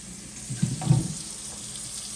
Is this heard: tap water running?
yes